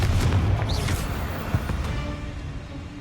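A Confringo explosion spell goes off in Hogwarts Legacy, a single booming blast with a crackling, rumbling tail that fades away over a few seconds.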